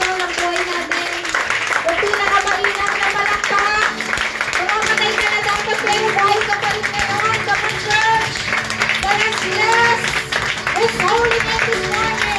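A congregation claps together during a Sunday worship and healing service, sustained dense applause with voices and sung tones mixed in, loud and steady throughout.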